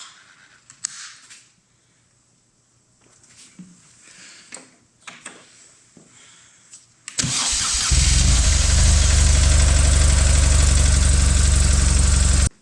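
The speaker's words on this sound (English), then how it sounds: "let's run the bike for a bit and see how the oil looks" A BMW R1200GSA motorcycle engine is started after some quiet clicks and handling noises, then settles into a loud, steady, close idle that runs on to the end.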